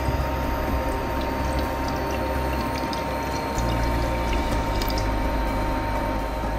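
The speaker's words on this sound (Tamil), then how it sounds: "ஃபர்ஸ்ட்டு நம்ம வந்து ஒரு 250 ml வாட்டர் வந்து ஊற்றிக்கலாம்" About 250 ml of water pours steadily into a container, a continuous close gurgling splash that holds level, with a brief shift in tone midway.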